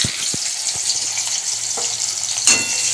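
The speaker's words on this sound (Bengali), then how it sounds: "তেল দিয়ে পেঁয়াজ দিলাম।" Onion frying in oil in a kadai alongside black cumin (kalo jeera), a bright, steady sizzle with a few low knocks of the utensil and one sharper crackle near the end, close and loud.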